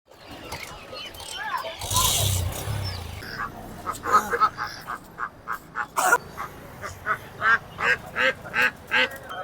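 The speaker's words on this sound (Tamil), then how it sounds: "ஃப்ளூட்டாக இருக்குது வந்து நாட்டு வாத்துங்க" Country ducks quack in a rapid series of short, nasal calls, fairly close, at a Ranipet livestock and poultry market, with people talking and some rustling nearby earlier on.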